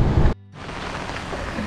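A heavy rain shower pours during a fishing outing, making a loud, dense hiss that cuts out for a moment and then returns steady and close.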